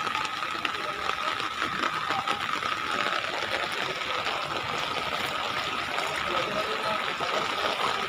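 Floodwater from heavy rain rushes in a steady broadband hiss and gurgle that stays continuous and fairly close throughout, with no talk.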